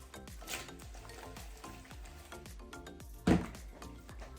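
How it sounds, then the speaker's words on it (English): Cold dish ingredients being shaken together in a container, a steady rustling, tumbling texture with one louder knock near the end, no talk. "Then we're just gonna give everything a shake."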